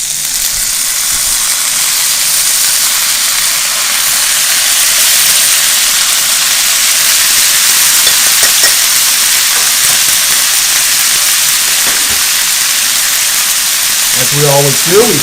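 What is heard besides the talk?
frozen vegetables frying in a hot pan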